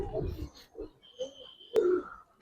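A Giribaz pigeon coos softly nearby, a few brief, low throaty notes amid quiet surroundings.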